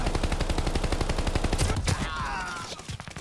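Rapid automatic gunfire from the Call of Duty: Vanguard Gondola map, a dense rattling burst of shots that runs for about two seconds before a louder blast and a few scattered follow-up shots.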